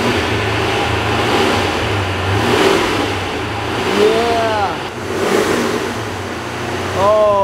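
A supercharged Corvette engine rumbles nearby and revs up several times, pitch climbing in quick surges over a steady loud growl.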